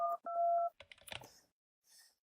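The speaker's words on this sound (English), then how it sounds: "Quickly, you retrieve your phone, rapidly dialing 911." A phone in the horror game My Sweet Housemate dials 911 with a quick run of touch-tone beeps, two steady tones then a cluster of rapid presses, followed by a faint ringing trill.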